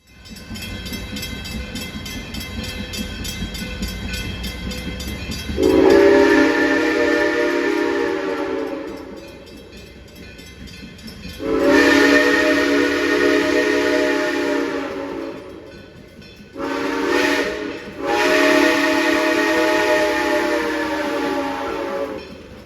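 Southern Railway steam locomotives, a 2-8-0 and a 2-8-2, sound loud, rich chime whistles in three long blasts, the last split by a brief gap, over a low background rumble.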